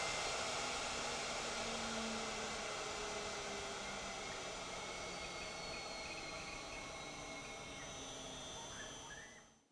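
The spindle of a Baileigh WR-84V CNC wood router table spinning with a loud, steady high whine and hiss that holds, then drops away as it shuts off at the very end.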